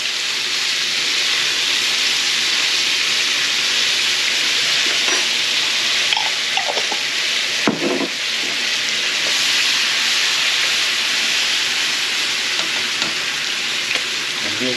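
Butter and garlic sizzle steadily in a hot pan while cooking honey garlic chicken breast, a loud continuous frying hiss with a few brief clinks of stirring near the middle.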